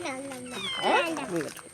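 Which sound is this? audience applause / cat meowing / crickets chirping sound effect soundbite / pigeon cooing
cat meowing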